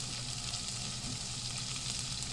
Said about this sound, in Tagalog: gisa na to atong kan guys, tuyo